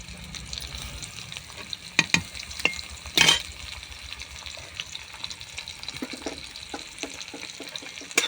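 Grated garlic frying in a pan with a steady low sizzle, broken by a few sharp scrapes and clatters of stirring, close and moderately quiet, no talk.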